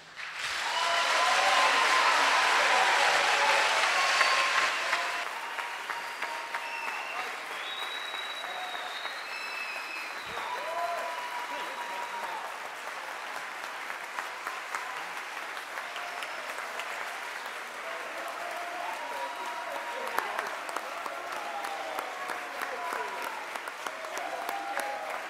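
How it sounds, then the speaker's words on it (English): A church congregation applauds after evensong, a burst of dense clapping for about five seconds that then settles into softer, scattered clapping while singing or organ tones carry on beneath. "Now you may clap."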